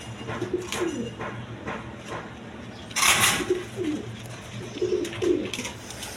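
Pigeons cooing at a wholesale pigeon market, soft repeated low coos from several birds close by, with a brief burst of wing flapping or rustling midway and faint background noise.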